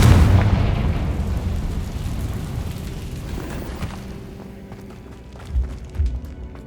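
A Confringo blasting spell in Hogwarts Legacy goes off as a loud, deep explosion that rumbles and slowly fades, followed by a couple of softer thuds, with no talk.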